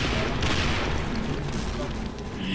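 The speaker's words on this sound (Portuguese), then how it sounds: "Levou um tiro, vai levar um tiro." Gunfire in the online shooter game Sudden Attack, a dense, continuous barrage of booming shots with heavy low rumble filling the short stretch, loud and steady with no clear gaps.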